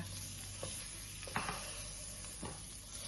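Thai chili paste for nam prik ong is stir-fried in a pan, giving a faint, steady sizzle broken by a few soft scraping strokes from the spatula.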